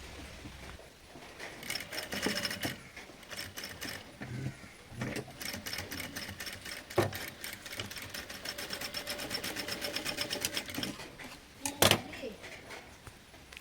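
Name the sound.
sewing machine stitching a kids top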